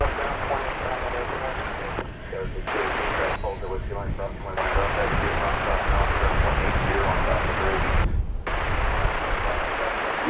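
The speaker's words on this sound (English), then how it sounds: "That's American Flight 1830 to Guadalajara, Mexico. That's going to be an Airbus A319." An American Airlines Airbus A319 bound for Guadalajara at DFW Airport, its engines producing a loud, steady broadband roar throughout, with brief dropouts where the sound cuts away.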